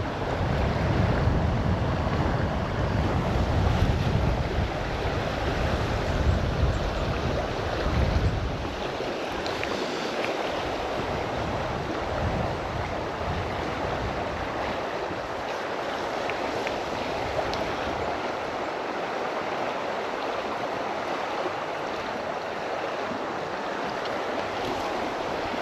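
Fast-flowing water on the River Ayr rushing steadily and fairly loud throughout, with heavier low rumble and wind buffeting in the first few seconds, then a constant broadband wash.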